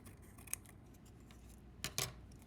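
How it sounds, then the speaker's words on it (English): Scissors cut a thin, straight strip of black paper: a few faint, crisp snips, one early and a quick pair near the end, close and quiet. "This one I'm going to cut a real skinny strip that is straight."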